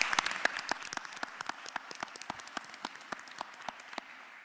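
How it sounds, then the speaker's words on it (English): Sparse applause from a small group at a county board of commissioners session, with distinct individual claps at an uneven rhythm, fairly quiet and thinning out before stopping just before the end. "Let's give him a round of applause."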